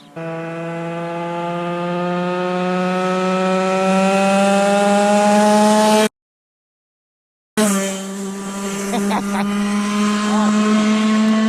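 A 2X race kart engine screams at high revs on a track, a loud buzzing tone climbing steadily before a brief cutout, then picking back up with rattly bursts.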